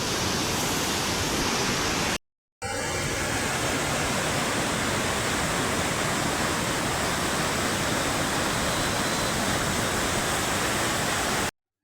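The flooded Saraswati river at Prachi pours over the submerged Madhavrai temple in a loud, continuous roaring rush, broken only by two brief dropouts. No voices are heard.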